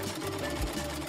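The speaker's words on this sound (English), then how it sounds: "Luckily, she has a sewing machine." A sewing machine runs in a brief burst, its needle mechanism chattering in a quick regular rhythm at a moderate, close level with no voices.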